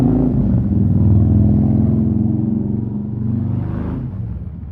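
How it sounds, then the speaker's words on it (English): A loud, close motorcycle rumbles steadily, its engine droning low and swelling slightly toward the end as it goes by. "It's a very loud motorcycle coming by."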